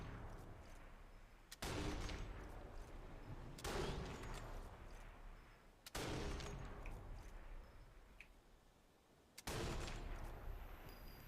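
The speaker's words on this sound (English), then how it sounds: "Who's shooting?" Gunfire in the video game Tainted Grail: four loud, sharp blasts spaced a couple of seconds apart, each followed by a dense, rumbling volley that lingers until the next shot.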